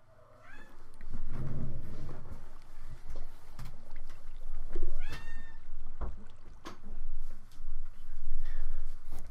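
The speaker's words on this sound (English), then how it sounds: "And my cat is back." A house cat meowing several times nearby, drawn-out rising and falling cries spaced a few seconds apart over faint background noise.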